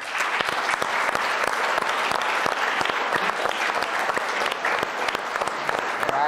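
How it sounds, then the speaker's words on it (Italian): Applause for the parents at a youth sports event, continuous lively clapping from a sizable audience with sharp individual claps standing out, carrying on steadily from start to finish. "un applauso va soprattutto a loro"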